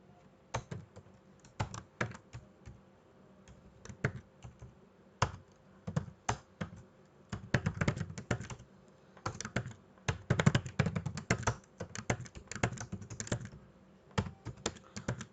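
Keys clatter on a computer keyboard while a jQuery script is written for a Django load-more pagination page: close, irregular bursts of quick keystrokes with short pauses and no talking.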